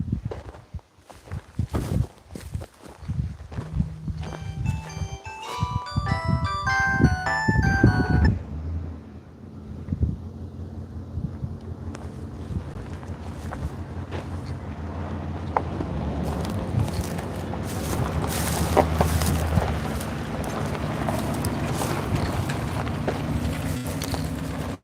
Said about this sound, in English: I'm gonna drive the truck up a little bit and we can look around that building.